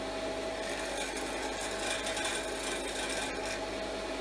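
A sheep shearing grinder runs steadily nearby with a continuous gritty, rattling mechanical whir that holds at an even level throughout.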